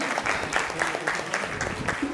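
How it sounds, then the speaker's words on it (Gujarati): Audience applause at a community social gathering in a village hall, a steady dense clatter of many hands clapping throughout, with a voice faintly present underneath. "જોરદાર તાળીઓથી આપણે યુવરાજને વધાવીએ."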